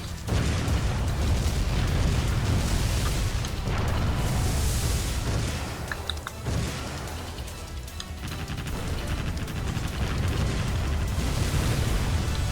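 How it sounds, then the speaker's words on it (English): Dense, continuous explosions and booming blasts as an enemy battleship sinks in the naval combat game Warship Gunner 2, loud and sustained with rumbling low end throughout, no talking. "Enemy battleship sunk."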